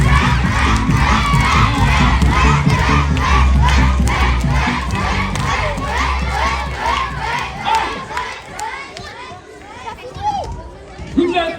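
Children at a water-guardians celebration cheer and applaud their champions. A loud crowd of young voices shouts rhythmically in unison amid clapping and scattered yells, then breaks into looser, fading cheers.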